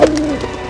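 A single short, low, breathy owl hoot in a TV drama scene, loud and close, fading out quickly with no other sounds around it.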